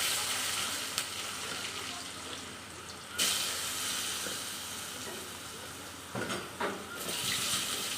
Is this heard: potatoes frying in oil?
yes